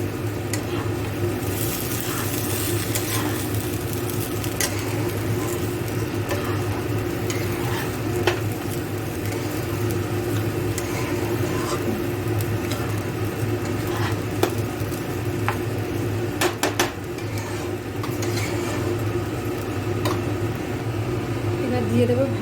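Rice and raisins fry in a pan for Basanti pulao, giving a steady, loud sizzle with scraping stir strokes and occasional clinks of utensil against metal throughout.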